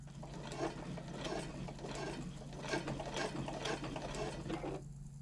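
A sewing machine stitches across a handbag strap connector, a close, steady, rapid mechanical clatter of needle strokes that runs without pause for several seconds, then stops.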